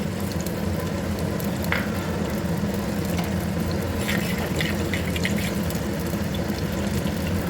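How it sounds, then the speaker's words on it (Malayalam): Fenugreek and fennel seeds sizzle in hot coconut oil in a clay pot for a traditional prawn curry: an even, moderately loud frying hiss with scattered crackles and pops, no voices. "ഇനി ഇതിലേക്ക് നമുക്ക് ഒരു ടീസ്പൂൺ ഉലുവ ഒരു ടീസ്പൂൺ പെരിഞ്ജീരകം ചേർത്ത് കൊടുക്കാം"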